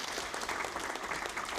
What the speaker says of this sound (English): At the back of the room in the victorious caucus, the new Foreign Minister joined in the applause